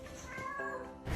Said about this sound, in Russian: Наверное, это чеширский кот, который случайно попал в наш мир и хочет вернуться обратно.